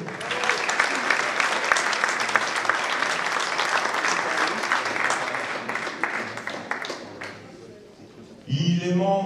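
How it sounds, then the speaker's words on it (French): A crowd at a table tennis match applauds a player being introduced, dense clapping that fades out before an announcer's voice takes over. "Merci d'applaudir João Geraldo."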